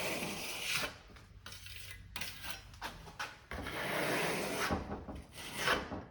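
A trowel spreads silk decorative plaster across a wall in close, gritty rubbing and scraping sweeps, broken by short pauses between strokes.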